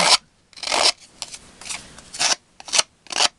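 Paper card edges being distressed with a tool, giving a series of about seven short, close, dry rasping scrapes in an uneven rhythm, with brief pauses between strokes.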